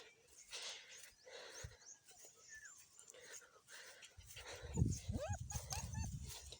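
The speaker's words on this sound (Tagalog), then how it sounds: "Aso ko sama-sama pa sa akin." A dog whimpers and yips nearby amid outdoor rustling, with brief high whines repeating toward the end and some voices in the background.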